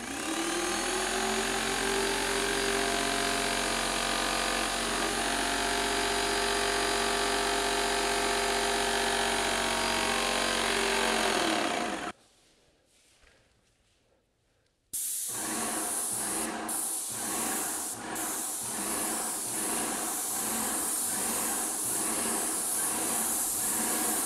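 A Graco X5 airless paint sprayer spraying primer makes a loud, steady mechanical hiss for about twelve seconds, cuts out briefly, then resumes with a pulsing, rougher hiss.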